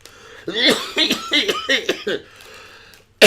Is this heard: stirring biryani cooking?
no